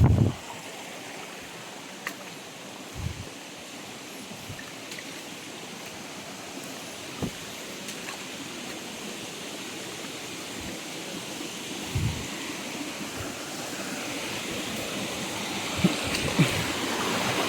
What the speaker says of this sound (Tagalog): Lakas pa rin agos nito ngayon